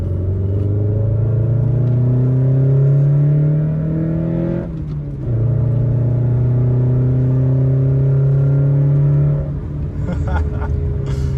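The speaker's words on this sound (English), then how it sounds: "when it gets in the VTEC, it's actually pretty audible" A Honda Accord with a cold air intake revs hard in second gear, its engine note climbing steadily, dipping briefly at a shift, then climbing again into a louder, sharper high-rpm wail, heard from inside the car.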